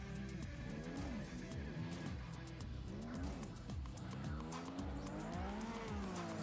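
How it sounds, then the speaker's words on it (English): Race car in TrackMania United Forever revs and shifts through swooping engine pitches, tyres squealing as it corners, with a continuous loud drone throughout. "You can hear a car,"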